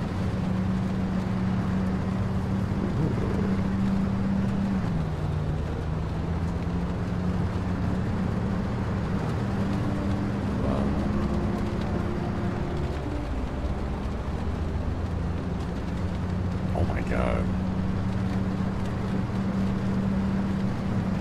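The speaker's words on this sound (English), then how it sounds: "It sounds so accurate, like the rain on our windshield, the top of the car." Rain drumming on the windshield and roof of a car in the video game Pacific Drive, a steady dense wash over a low continuous engine hum that holds throughout with slight shifts in pitch.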